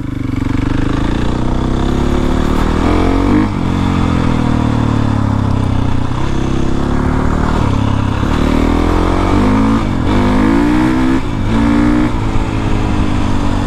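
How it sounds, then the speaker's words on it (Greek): A powerful 4.5-litre motor vehicle with strong throttle pulls away hard, its loud engine roaring steadily and rising in pitch through the gears, close and continuous with no talk. "ξεκινάει το εργαλείο, έχει πολύ γκάζι"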